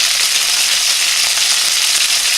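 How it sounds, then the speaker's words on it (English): Orange pepper sautés in a hot pan, giving a steady, loud, close sizzle that holds evenly without a break. "I'm going to add the orange pepper and let it saute a little bit before adding the rice"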